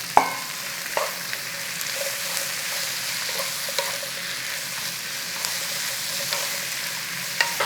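Chips and peppers fry in hot oil with a continuous, steady sizzle, broken by a few soft clinks and stirring taps, with no voices.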